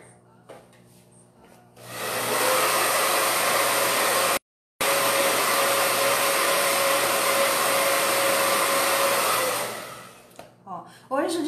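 A hair dryer blows over wooden crates painted with a colored patina, a loud steady roar lasting about eight seconds with one brief cutout, and quiet before and after.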